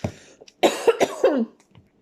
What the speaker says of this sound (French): Excusez-moi, je tousse encore.